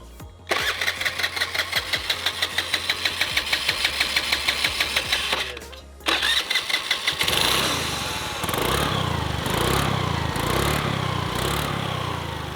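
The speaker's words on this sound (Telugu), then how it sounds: "ఇంజన్ వచ్చేసి స్టార్ట్ అయితే అయింది." A scooty engine fitted to a homemade Formula 1-style race car cranks in a quick rhythmic series of pulses, briefly stalls, then catches and settles into a steady, close buzzing idle.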